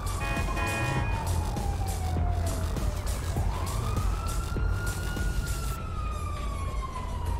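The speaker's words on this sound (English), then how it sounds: "I wonder what's up with that siren." A video game siren wails loudly and continuously, sweeping down and then back up in pitch, with no talk over it.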